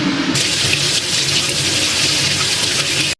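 Brown eggs rinsed under a steady running kitchen tap, a continuous close hiss of water streaming into the sink with no talking.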